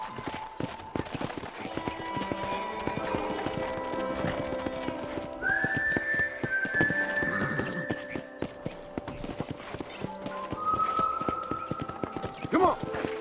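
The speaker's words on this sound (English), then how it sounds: "let's see if you can still ride a horse." Horse hoofbeats from riding in the video game Red Dead Redemption, a steady clip-clop running throughout with brief whinnies, under game music and occasional voices.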